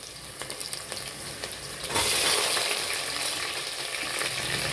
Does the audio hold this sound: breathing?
no